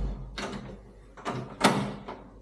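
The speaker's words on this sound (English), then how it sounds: "Close the door" A room door is pushed shut, giving several close, sharp sliding and knocking bursts over about two seconds, with no talking.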